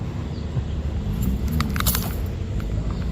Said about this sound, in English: And I keep dropping my keys too.